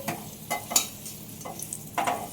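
Fried potatoes for an egg potato curry sizzle in oil while a spatula scrapes and stirs in a few short, close bursts, with no voices.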